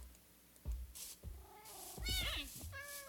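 Cats in the Minecraft video game give several short meows in quick succession, with game clicks and thuds between them.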